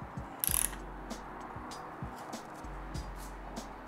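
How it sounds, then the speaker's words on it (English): A crank puller tool being threaded and turned to draw the spindle through BMX cranks on a fixed gear bike, giving a sequence of soft metallic clicks and ratcheting ticks at a steady, irregular pace, close and quiet. "Thread your tool back in and pull your spindle a little bit more over so it's even with both crank arms."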